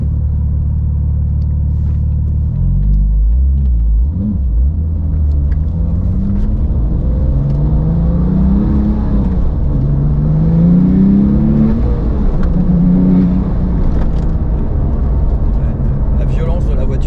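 A Porsche 997 GT2 accelerates hard from inside the cabin, a deep, loud engine roar rising in pitch through the gears, with a person talking over the sustained rumble.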